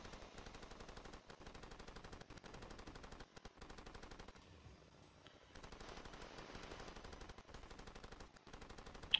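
A machine gun fires in Far Cry 2 in rapid, sustained bursts of rattling shots, with a brief lull midway before the firing resumes, fairly faint and with no talking.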